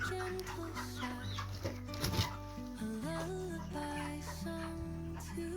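Chickens cluck repeatedly on a farm, one being weighed at 46 days old, the soft fowl calls close and steady over a low background hum with brief handling noise midway.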